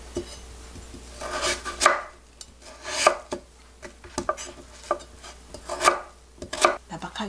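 A knife chops a medium potato on a cutting board while Andong sikhye is being made, with repeated irregular close thuds and scraping strokes across the board.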